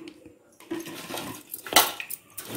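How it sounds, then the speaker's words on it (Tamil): Bitter gourd slices are mixed by hand into a spiced flour batter in a bowl, giving faint, irregular wet squelches, scrapes and light clinks close by, with no talking. "இப்போ இந்த பாவக்காவை போட்டு இதில் நல்லா மிக்ஸ் பண்ணிக்கோங்க"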